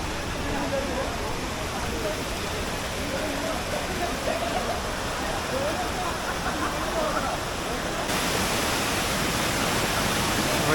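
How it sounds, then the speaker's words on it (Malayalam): Steady broadband rush of Kappakkanam waterfall near a canal in the Vagamon hills, a continuous roar that holds evenly throughout and brightens slightly toward the end. "കനാലിൻ്റെ ഇപ്പുറത്ത് തന്നെയുള്ളതാണ് ഈ വെള്ളച്ചാട്ടം, കപ്പക്കാനം വെള്ളച്ചാട്ടം"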